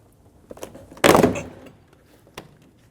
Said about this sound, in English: just give it a nice swift pull straight out and pop the door panel